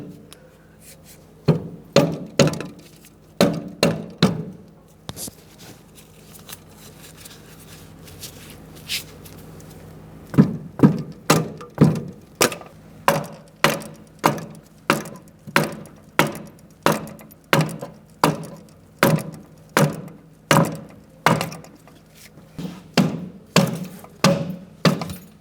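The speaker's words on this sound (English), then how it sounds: "You can use a rubber mallet if needed." A rubber mallet tapping a rear axle into a 2002-2006 Honda CR-V wheel hub, sharp solid thuds struck in quick bursts, then a long steady series of evenly spaced loud knocks after a brief pause.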